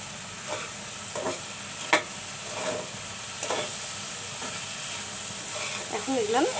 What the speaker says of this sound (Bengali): এখন এগুলো সুন্দর করে একটু আমি তেলে ভেজে নেব